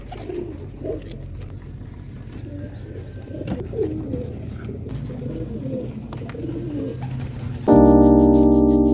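Pigeons kept in a small home aviary coo softly in a steady, overlapping murmur close by for several seconds, before a loud burst of music takes over near the end.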